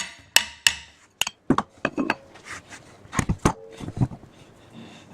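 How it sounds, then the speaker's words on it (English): Sharp hammer taps and knocks on an electric motor's flange to loosen it, a series of distinct close impacts spread irregularly, some ringing briefly, with no talking. "Give a little tap, it should come off."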